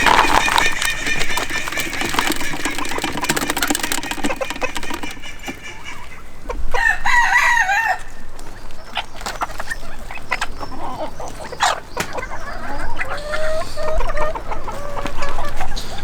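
A breeding flock of blue mottled Ancona hens clucks and calls around a feeding spot, busy near-field chatter with occasional louder squawks throughout, no talking.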